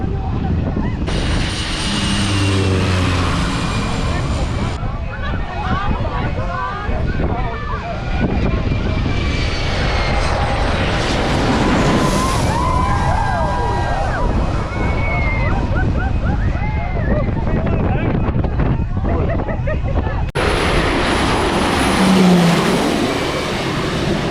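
Airplane coming in to land low over Maho Beach on Saint Martin, a broad roar that swells and fades against surf and street noise, with people talking throughout.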